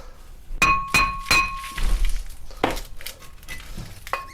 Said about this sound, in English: Just give this disc a bit of a tap.